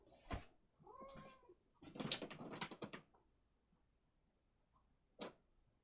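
A cat meows and caterwauls while being hugged, making a handful of close, drawn-out cries that cluster early. One last short meow comes after a quiet pause, and no one speaks.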